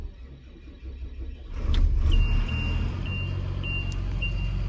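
A sprayer tractor's diesel engine fires up and settles into a loud, steady idle rumble, with a repeating high electronic beep chiming several times over the running motor.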